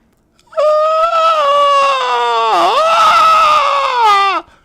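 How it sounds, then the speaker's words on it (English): A pile of screaming skulls in a video game lets out one sustained, loud, wailing scream lasting several seconds, dipping briefly in pitch midway before cutting off abruptly. "a gruesome pile of screaming skulls is erected"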